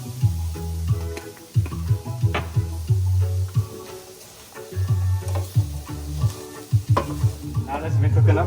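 Vegetables for stewed pigeon peas with callaloo sizzle and fry in a pot while a spoon stirs them in repeated scraping bursts, loud and close, with no talking.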